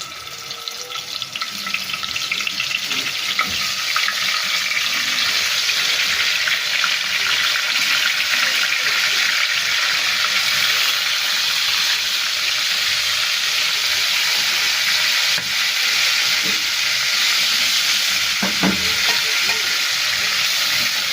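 Hilsa fish sizzles and fries in a little hot oil, a steady bright crackling hiss that continues unbroken and fairly loud, with no one talking.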